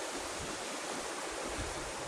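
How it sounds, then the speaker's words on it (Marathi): Steady rushing water fills the whole stretch, a constant broadband wash like a stream flowing close by, with no voices, two water channels meeting in a Konkan village. "ह्या साईडून पाणी येतो पूर्ण इकडे"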